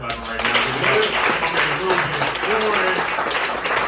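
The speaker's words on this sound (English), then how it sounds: "now start clapping right" Comedy club audience claps along at a steady level beneath a voice talking over the applause.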